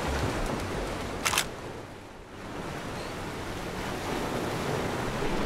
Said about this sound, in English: Prainha is a small, cozy black sand beach.